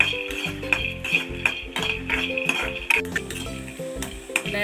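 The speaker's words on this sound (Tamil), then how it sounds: "இப்போ எண்ணெய் இல்லாம தான் எல்லாத்தையும் வறுத்துக்கலாம்" Peanuts dry-roasting in a hot kadai without oil, with repeated crisp clicks and rattles as they are stirred, over a steady musical backing.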